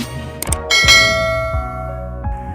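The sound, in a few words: notification bell ringing sound effect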